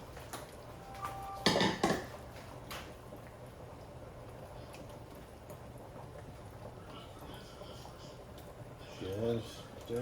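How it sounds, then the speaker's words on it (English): Spoon scraping and clanking in a pot of spaghetti meat sauce with vegetables, a couple of sharp metallic knocks then softer stirring, under people talking nearby. "Just give that a stir"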